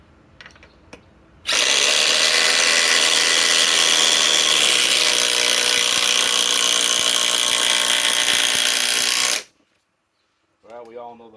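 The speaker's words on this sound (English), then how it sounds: "let's run the Flex Compact Dewalt DCF 845." A DeWalt DCF845 XR impact driver runs loud and continuously for about eight seconds, a dense buzzing hammer that starts and stops abruptly, with brief talk before and after.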